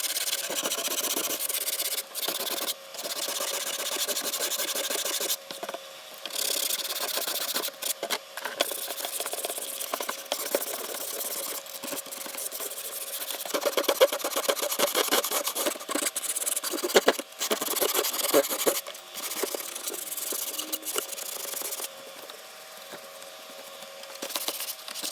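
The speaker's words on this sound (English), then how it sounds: "I'm going to do some sanding and just to smooth it out a little." Hand sanding of a wooden dollhouse window frame, a steady close scratchy rubbing that runs throughout in short repeated strokes with brief pauses.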